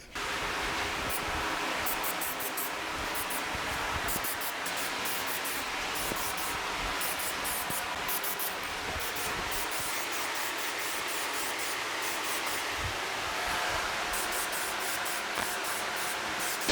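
Nitrocellulose sanding sealer sprayed onto a guitar body, a steady hissing spray gun running almost continuously at moderate level, broken by brief pauses and pulses as the trigger is worked, with no talk.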